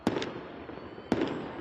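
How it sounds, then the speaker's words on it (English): Fireworks burst over Damascus during night-time celebrations, two sharp booming explosions about a second apart, each followed by crackling decay, fairly close and with no talking. "Fireworks illuminate the night sky over Damascus"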